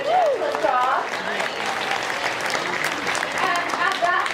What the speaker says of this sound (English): Round of applause for our seniors.